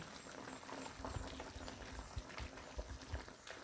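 A pot of chicken with young coconut and large-cut cabbage simmers at a low boil, soft continuous bubbling and gentle popping, quiet and close.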